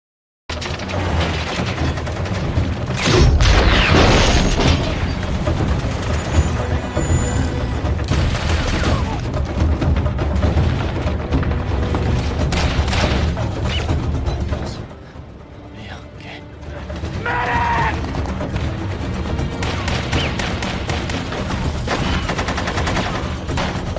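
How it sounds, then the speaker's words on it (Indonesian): Sustained gunfire and explosions from a militia attack on a jeep convoy in a war film, militia shooting from behind buildings, bursts of rapid fire and booms over a dense soundtrack with brief spoken lines, loud throughout with a short lull midway. "iring-iringan jeep tak henti-hentinya mendapat serangan pihak milisi yang menembak mereka dari balik gedung"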